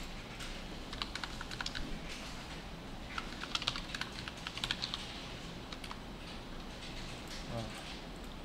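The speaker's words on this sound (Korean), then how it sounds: "컨트롤 E 눌러서 더하기 눌러주고" Keys clatter on a computer keyboard in uneven bursts of close typing, with a low steady hum beneath and a voice speaking Korean at times.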